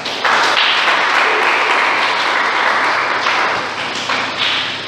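A church congregation applauding the Lord, sustained loud clapping from many hands filling the room, holding steady for several seconds before thinning slightly toward the end.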